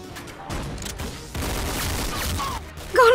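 Gunshots in a shooting video game crack in a short burst of rapid reports, fairly close and loud, with a rising tone at the very end.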